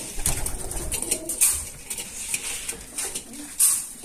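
Pigeons or doves in a mobile chicken coop peck at feed against faint clinks of metal, with a couple of brief high chirps and soft scattered pecking and shuffling.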